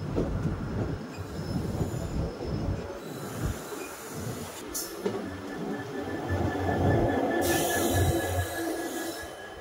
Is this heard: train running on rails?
yes